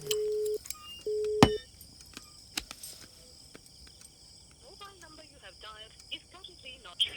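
Two steady phone keypad beeps sound close by, then crickets chirp quietly in the background as a person starts speaking.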